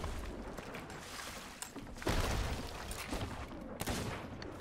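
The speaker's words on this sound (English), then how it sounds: "I sniped him." A sniper rifle shot in Sea of Thieves cracks out sharply over a dense wash of sea and ship noise, with several other sharp reports scattered through the few seconds of busy naval combat.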